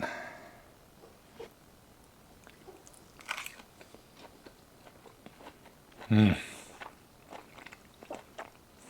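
Close, crisp bites and chewing of air-fried meat, a sharp crunch standing out among quieter mouth sounds in a calm kitchen.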